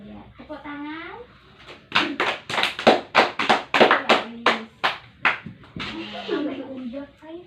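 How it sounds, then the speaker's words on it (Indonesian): Children in a primary school Islamic history class clap hands in a rhythmic burst of about a dozen sharp claps, with a teacher's voice speaking before and after. "Tepuk tangan."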